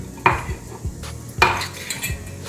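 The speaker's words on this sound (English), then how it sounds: "Mix it well." Fermented dosa batter is stirred with a spoon in a bowl, giving close wet slaps and several sharp metal clinks against the rim in an uneven rhythm, with no talk.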